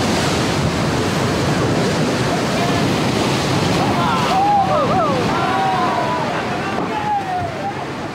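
Wild river rapids in a forest rush loudly and continuously, a thick roar of churning water with wind buffeting the microphone and a faint voice briefly mixed in.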